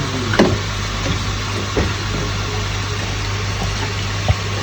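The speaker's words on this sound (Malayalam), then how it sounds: "കുറച്ച് വെള്ളം കൂടി ഒഴിക്കട്ടോ." Water pours steadily into a cooking pot while chicken soup is being made, giving a continuous close rushing wash over a low hum, with a few soft knocks.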